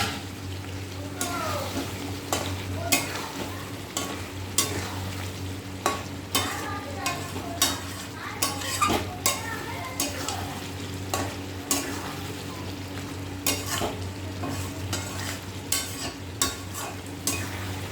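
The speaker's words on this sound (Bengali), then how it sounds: "মশলাটা কষা হতে থাকুক।" Spice paste fries with potatoes in a pan under steady stirring: a continuous sizzle with repeated scraping and clinking strokes of the spoon, close and moderately loud, with a low background hum throughout.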